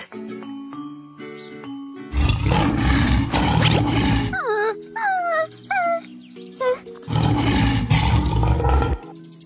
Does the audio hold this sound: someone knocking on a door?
no